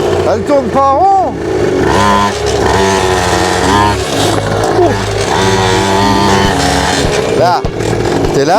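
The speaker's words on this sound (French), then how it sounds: "la moto elle monte toute seule" Motorcycle engine revving loudly and continuously through a wheelie attempt, with rising and falling pitch sweeps as the throttle opens, while a person talks throughout.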